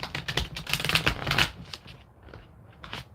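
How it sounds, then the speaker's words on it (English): A deck of thick tarot cards being shuffled at close range, a rapid riffling flutter for about a second and a half that then gives way to softer, scattered card slides and taps. "I'm gonna shuffle this one more time"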